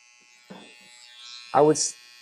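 An electric hair clipper hums faintly and steadily while used around the neck during a haircut, with brief bursts of speech over it.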